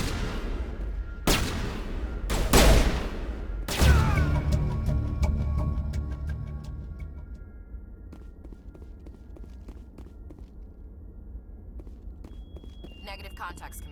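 Firefight in the video game Mass Effect: a few loud, close bursts of gunfire in the first four seconds, then fading into quieter scattered clatter and ambient rumble.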